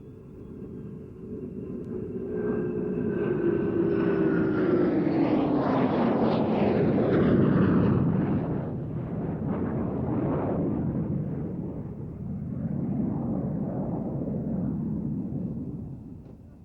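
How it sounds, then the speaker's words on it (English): A B-2 stealth bomber passes over an air show at Mildenhall Air Fete with an F-15 escort, a broad roaring jet rumble that swells to a peak midway and slowly fades, with a falling whine. "Jane's All the World's Aircraft calls it a low observable strategic penetration bomber, but we call it a stealth bomber like everybody else."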